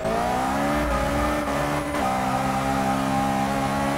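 Heavily modified VW Golf MK1 time attack build on track in Forza 6, its engine holding a loud, steady, buzzy drone with brief dips in pitch as it shifts or lifts, continuous and close throughout.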